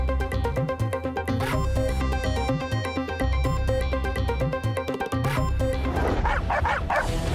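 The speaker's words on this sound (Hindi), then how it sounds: "गली मोहल्लों में आवारा कुत्तों के हमले" Stray dogs barking in the neighbourhood lanes of Shahdara, Lahore, with repeated yapping and bow-wows over a loud, continuous music bed.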